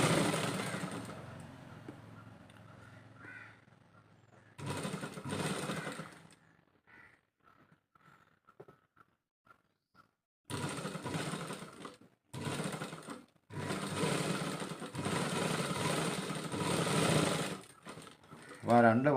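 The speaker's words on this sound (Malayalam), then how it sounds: "ഇവിടെ നമ്മൾ 2 സ്റ്റിച്ച് അടിക്കണം കേട്ടോ." Sewing machine stitching a princess cut blouse: bursts of rapid mechanical whirring, a short run, then a pause with light clicks and handling, followed by longer fast stitching runs; a voice talks between them.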